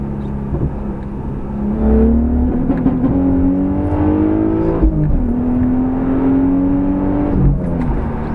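A car pulls hard in second gear with rolling anti-lag, heard from inside: a steady engine drone climbs in pitch, dips at a shift or lift, then climbs again, with rough crackling underneath.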